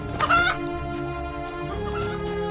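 A little brown hen in the video game Reka gives a short burst of clucking near the start, then steady background music carries on without further calls.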